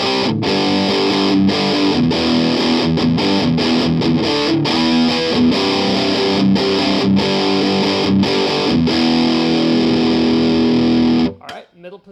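An electric guitar runs through an Amptweaker Big Rock Pro 2 distortion pedal, playing loud, thick, saturated riffs with brief choppy breaks for about eleven seconds before cutting off abruptly.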